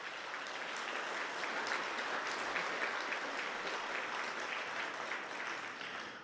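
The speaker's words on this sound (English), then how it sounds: "Oh, round of applause for these guys." Sustained applause from a lecture audience at a talk on subglacial floods and Moses Coulee, a dense, steady crowd clapping that holds loud and even for several seconds with no voices over it.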